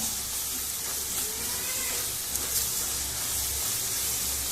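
Garam masala and coriander powder sizzle steadily in a hot pan while being stirred for South Indian tomato rice, a continuous close hiss with no voices.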